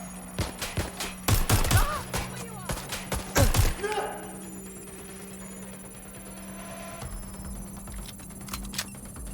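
Gunfire in the Watch Dogs Legion video game: a quick volley of loud, sharp shots in the first few seconds, then quieter scattered pops over a steady hum, with voices talking in between.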